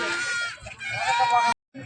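Goats bleating at the Friday goat market in Ettayapuram, a close, loud, wavering bleat running over a second and a half, cut by a brief silence before another bleat starts.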